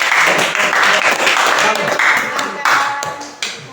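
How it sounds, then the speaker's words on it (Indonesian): A classroom of students applauds a student group after its presentation, with loud, close clapping that stays dense throughout and thins toward the end, with a few sharper individual claps. "Mari kita berikan tepuk tangan untuk kelompok"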